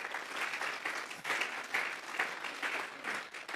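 A church congregation at a Sunday service claps together in sustained applause, with dense, even clapping that swells in soft waves throughout, moderately distant and without voices.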